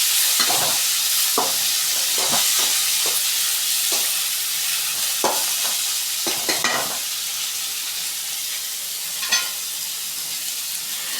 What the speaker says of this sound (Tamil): இப்போ தக்காளி வந்து கட் பண்ணி வச்சுருந்தோம் இல்லையா, அதை போட்டுட்டு நல்லா வதக்கிக்கலாம்.